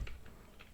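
Three or four quick, light keystrokes on a computer keyboard, close and soft, with no voice over them.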